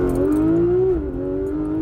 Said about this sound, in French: quand vous êtes à 5000 et que t'as le moteur qui gueule